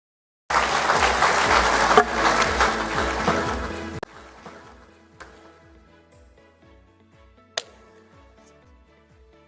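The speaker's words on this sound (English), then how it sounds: "Another round of applause" Audience applause at a devolution conference in Eldoret, a loud burst of clapping that cuts off after a few seconds, leaving quieter scattered claps, a low rhythmic thumping and one sharp knock.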